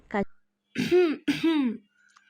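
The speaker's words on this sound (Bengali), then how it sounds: "হঠাৎ কারোর কাশির শব্দে ঘোর কাটল তাদের।" A brief throaty sound, then two voiced coughs close by, like someone pointedly clearing their throat.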